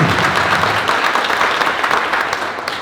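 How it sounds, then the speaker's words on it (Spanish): Audience at a book presentation in a bookshop breaks into loud, dense applause, many hands clapping together close by and fading slightly toward the end, with no one speaking. "yo también le pido un aplauso a Catina y a su librería"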